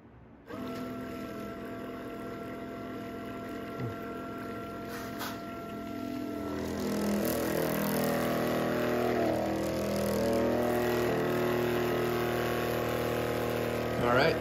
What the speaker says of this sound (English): we're gonna turn the pump on.